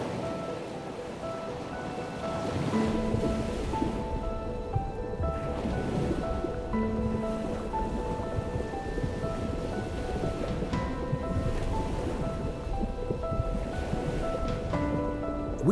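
Ocean waves breaking at the edge of the sea near the coral reefs of Australia's Gold Coast, a continuous roaring wash of surf with steady rumble, overlaid by soft sustained musical tones.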